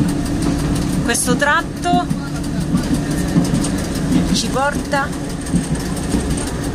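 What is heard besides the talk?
Etna wine train engine on the rails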